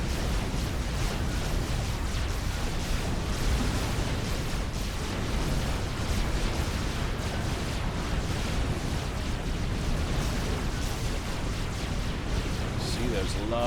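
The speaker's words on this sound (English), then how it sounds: "shells landing from that T3 artillery." Heavy T3 artillery shells land in a Forged Alliance match as a dense, continuous rumble of explosions and bursts. It sounds like a constant barrage with no clear gaps between impacts.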